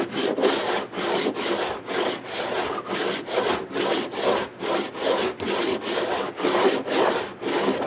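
Steady back-and-forth sanding on a filled hole in a wooden deck, a rhythmic gritty rasp repeating about twice a second, close and continuous with no talk.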